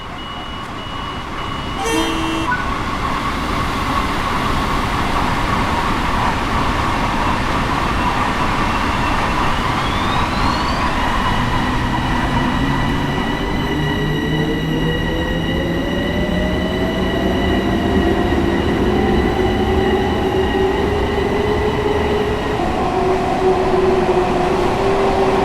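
An M7A MTA commuter train on the snowy Harlem Line in Train Sim World 5 approaches with a loud, continuous rumble; after a few seconds its horn sounds and holds, bending in pitch as it passes close by.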